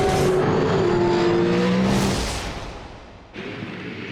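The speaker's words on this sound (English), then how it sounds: "Cars on the warm-up lap for the final race of the weekend." V8 Supercars race cars on a warm-up lap at Ipswich, loud engine roar with a car passing close, the sound fading away before another car sweeps in.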